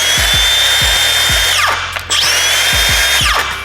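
A Ryobi cordless power drill runs continuously up close with a noisy bearing, steady whine with periodic speed dips and rattling pulses.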